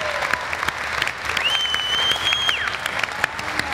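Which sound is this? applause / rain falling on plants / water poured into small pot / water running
applause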